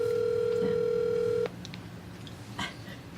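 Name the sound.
telephone ringing tone on an outgoing call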